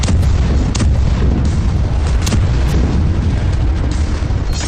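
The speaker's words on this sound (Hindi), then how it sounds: "ये वो बमबारी है जो सबसे बड़े नरसंहार को अंजाम दे रही है" Heavy bombardment in the Gaza war: a continuous, dense rumble of booms and blasts with several sharper impacts cutting through, loud and unbroken throughout.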